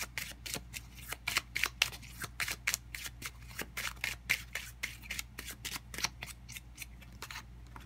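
A deck of tarot cards being shuffled by hand, with quick, rhythmic riffling bursts repeating steadily and close up against a quiet background hum.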